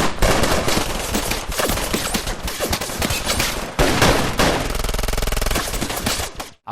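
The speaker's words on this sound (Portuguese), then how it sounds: "E nesse momento ele é baleado." Loud, rapid bursts of automatic gunfire crackle almost without pause, with a few heavier shots standing out.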